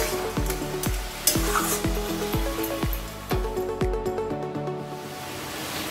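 Ash gourd fritters (chapor) fry lightly in a pan for a Bengali vegetarian ghonto, a soft sizzle under regular rhythmic knocks of a spatula against the pan, close and steady.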